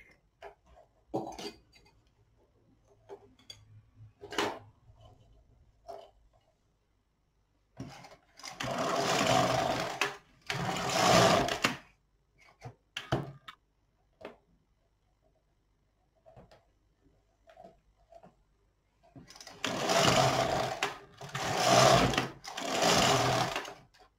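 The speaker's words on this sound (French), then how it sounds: "On va faire quelques rangs aussi de fil perdu." An LK150 knitting machine knits rows of waste yarn. Its carriage makes several loud sliding, rattling passes in short bursts, with quiet clicks and handling between them.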